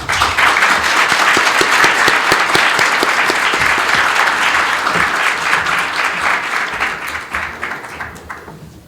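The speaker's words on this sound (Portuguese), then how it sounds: "Senhoras e senhores, uma salva de palmas para Salim Matar." Loud, sustained applause from a large lecture audience, dense steady clapping throughout that eases off slightly toward the end.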